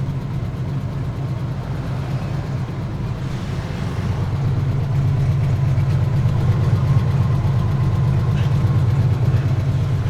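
A BMW 700 cruising across Burlington on a hot day, its engine a steady low drone that swells a little after a few seconds and holds level, with no talk over it.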